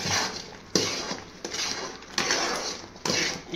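Spoon scrapes and stirs a thick mixture around a metal pan, with repeated scraping strokes about every second and a clinking accent at the start of each stroke, close and moderately loud.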